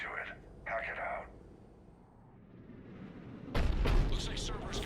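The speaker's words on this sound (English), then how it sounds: "Looks like Cerberus got that cannon operational, Commander." A Cerberus cannon firing in Mass Effect 3, a deep heavy boom rumbling out after brief radio-style chatter, followed by a loud bright blast toward the end.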